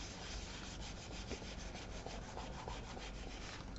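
A paper page pressed down and burnished onto a scrapbook album, a quiet, steady dry rubbing scrape with soft repeated strokes close up.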